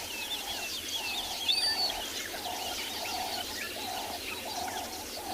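Many birds sing and chirp at a watering hole at sunrise on a safari reserve, a steady layered chorus of overlapping calls with repeated cooing phrases, moderately near and continuous.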